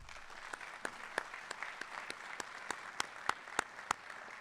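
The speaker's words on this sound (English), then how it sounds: "Please give a round of applause to First Federal Bank." Applause at a school letter jacket ceremony for a sponsoring bank, scattered distinct claps over a soft bed of clapping, moderately distant, with sharper individual hand strikes standing out.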